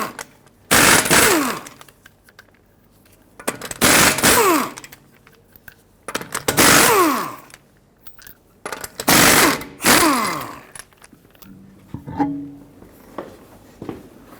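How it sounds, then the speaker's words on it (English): Impact wrench removing wheel lug nuts with a 19mm socket on a Ford Flex: five loud, rattling bursts of a few seconds each, separated by brief pauses, with a quieter clink at the end. "Remove the wheel, use a 19mm socket,"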